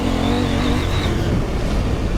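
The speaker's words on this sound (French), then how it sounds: "le moteur il est bon, il est rageur." Husqvarna 901 Norden 900 cc adventure motorcycle engine revving loudly and close during a sliding braking manoeuvre, a steady, aggressive roar with a rising whine held for about two seconds.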